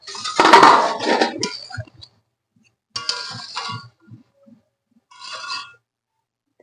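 A metal lid comes off a cooking pot of lentils with a loud clattering scrape, followed by a few lighter clinks and knocks of metal on metal separated by quiet gaps.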